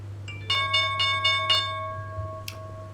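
A stock market closing bell rings out in a series of bright, evenly spaced metallic strikes, with a final separate strike after a short pause, over a steady low hum.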